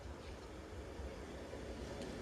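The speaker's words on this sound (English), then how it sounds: "Train now arriving into platform 1 is the 1240 Avanti West Coast service to Manchester Piccadilly" An Avanti West Coast Class 390 Pendolino, unit 390-002 with nine coaches, pulls into platform 1 at Macclesfield station. It makes a faint, distant, continuous low rumble with no clear peaks.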